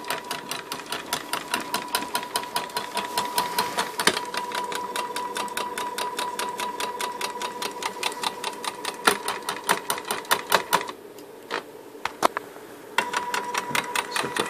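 An Arduino-controlled stepper-motor drilling machine runs steadily with dense rapid mechanical ticking and a constant whine, briefly pausing near the end before resuming; no talk.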